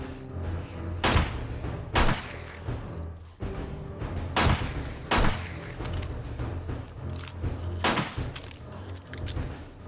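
Pistol shots in 7 Days to Die, fired singly at uneven intervals of roughly a second, about eight sharp cracks standing out over a constant low game ambience.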